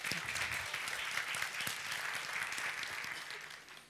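An audience at a Swedish conference welcomes a speaker with applause, a moderate, steady patter of many hands clapping with a few sharper claps, fading slightly toward the end.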